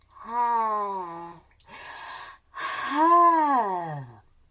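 A voice imitates a long, drawn-out yawn, rising and falling in pitch, then a breathy exhale and a second stretching yawn.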